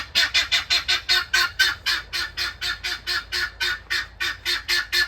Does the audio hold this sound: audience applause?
no